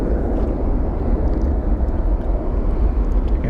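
An airliner taxis across the runway at Phoenix Sky Harbor International Airport, giving a steady loud jet-engine roar and rumble that holds constant throughout with no talk.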